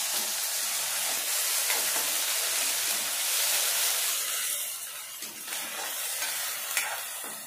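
A masala paste of coconut, coriander, ginger and garlic fries steadily in a pan with tomato, giving a continuous close sizzle and hiss with occasional stirring scrapes, and no voices.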